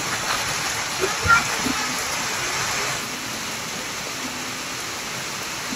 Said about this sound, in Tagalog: Ang ulan. Napaka-ulan. Grabing panahon.